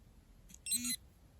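A short electronic alarm-like beep from a sports watch, one brief high tone lasting under half a second, clear against a quiet background.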